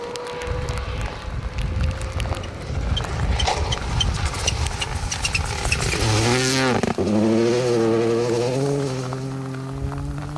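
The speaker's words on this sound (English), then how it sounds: "Second of the Yaris GRs then making their way through." Toyota Yaris GR rally cars pass through a wet, windswept Welsh rally stage, engines roaring loud and close with rising revs and gear changes, one car surging past and another following right behind.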